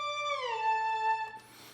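A synthesized string preset from Ableton holds a sustained tone that glides downward in pitch, then cuts off as a brief airy wash follows, played alone.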